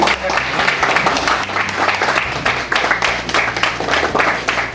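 Loud, dense applause fills a hall at a gathering of Bikaner performers at Hotel Taj, continuous and close, with a low musical drone running steadily underneath.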